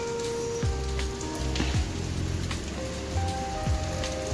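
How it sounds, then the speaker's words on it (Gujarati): Continuous rain falls steadily throughout, a dense hiss of drops on surfaces, with faint tonal and passing-vehicle-like sounds in the background and no talking. "આજે વરસાદ જો કન્ટિન્યુ આવે છે."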